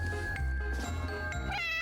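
A cat meows in the indie video game Candyween, a close, clear game sound effect with a short rising cry near the end over steady background music.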